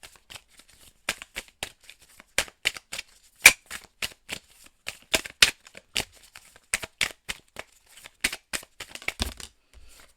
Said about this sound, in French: On va tirer une petite carte d'inspiration et de motivation pour ce mois d'octobre.